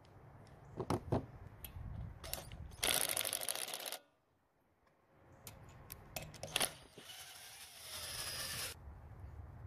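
A hand ratchet works on the studs of a Weedeater mower engine, giving bursts of quick clicking and metallic handling noise with a short quiet gap in the middle, fairly faint and close.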